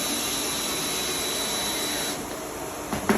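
A drill runs steadily to drive a screw into a carved seven-foot bigfoot, whirring at a constant pitch for about two seconds before it eases off and something clatters at the end.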